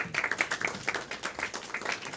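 An audience applauding the players at a live game event, a steady run of clapping with distinct individual claps and a few whoops over it, moderately close.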